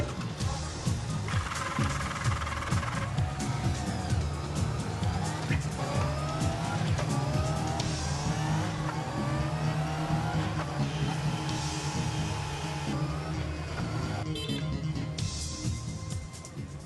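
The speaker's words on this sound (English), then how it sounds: "each finished motorcycle is fired up for the first time and ridden onto a special test platform" Honda motorcycles fired up on a final inspection test machine, a loud continuous engine roar with rising and falling revs, rumbling low and steady throughout.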